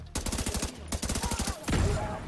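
Rapid bursts of gunfire and an explosion in The Division 2 video game, a dense fusillade of sharp shots in quick rhythmic volleys, loud and close, followed by a heavier blast.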